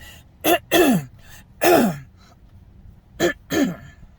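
A person with heavy mucus repeatedly clears their throat and coughs up close, in two clusters of harsh, rasping bursts separated by a short pause.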